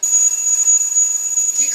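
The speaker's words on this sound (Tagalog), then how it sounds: "Alarm na yan." An alarm goes off with a steady high-pitched electronic tone that holds unbroken and loud for nearly two seconds, with a faint voice near the end.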